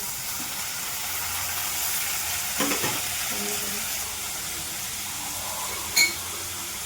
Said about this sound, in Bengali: তারপরে দিয়ে দিচ্ছি টমেটো।